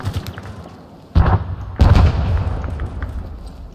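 A grenade explosion and gunfire in the military shooter Arma 3, two loud booming blasts in quick succession with rumbling rounds continuing under steady battle noise.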